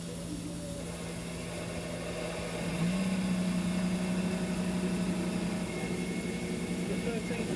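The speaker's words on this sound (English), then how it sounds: "Gentlemen, start your engine." Engines of IndyCar race cars at an Alabama motorsports park fire up and settle into a steady idle. A low drone is there from the start and swells into a louder, sustained hum about three seconds in, alongside crowd noise and amplified speech.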